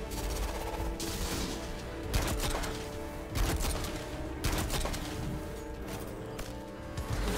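Still Hunt sniper rifle in Destiny 2, fired by a Titan during a damage phase: a few heavy, booming shots ring out at irregular intervals over continuous loud game action and explosions, with no talking.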